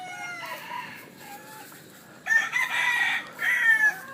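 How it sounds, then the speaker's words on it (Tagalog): A broodcock rooster crows on a farm. A fainter call comes first, then a louder, nearer cock-a-doodle-doo rises in the second half. "ayan ang broodcock."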